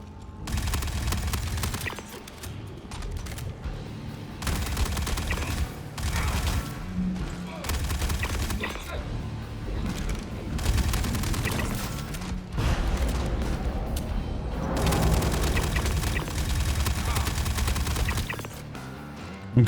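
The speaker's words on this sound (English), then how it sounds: "I've heard my gunfire." Bursts of video game gunfire crackle in repeated volleys, loud and dense, separated by brief lulls amid mechanical clatter and background game noise.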